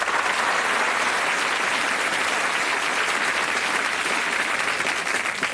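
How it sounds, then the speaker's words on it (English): Studio audience of a TV game show applauding, a dense, loud, continuous burst of clapping that holds steady to the end. "Give them a round of applause."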